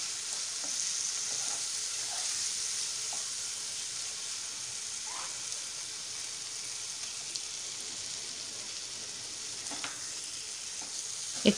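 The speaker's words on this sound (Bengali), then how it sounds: "এখন আমি সেদ্ধ করে ভেজে রাখা ডিমগুলো এর মধ্যে দিয়ে দেব।" Boiled, fried eggs are stirred into a sizzling spice masala, giving a soft but continuous frying hiss with occasional light clicks of a spoon against the pan, and no talking.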